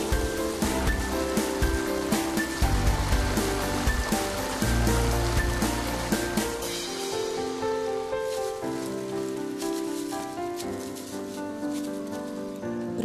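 Water pours steadily at the Biela voda karst spring, source of the Muránka river, a dense continuous rushing wash that is close and even throughout.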